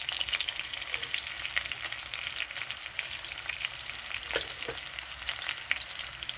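Papaya and potato pieces frying in oil in a pan for a katla fish curry give a steady, close sizzle and crackle with small spits and pops throughout, and no voices.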